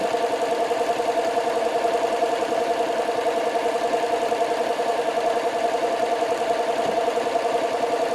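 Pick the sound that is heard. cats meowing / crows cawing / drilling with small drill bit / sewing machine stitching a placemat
sewing machine stitching a placemat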